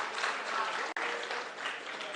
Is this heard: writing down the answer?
no